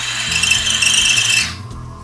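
A sander bevels the end of a wooden dowel spinning in a drill chuck, giving a steady, close, gritty rasping whir that runs for about a second and a half and then cuts off, leaving the motor winding down.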